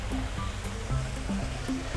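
A waterfall at a garden cafe produces a continuous broadband rush of flowing water that holds steady and loud throughout, with faint tonal murmurs mixed underneath.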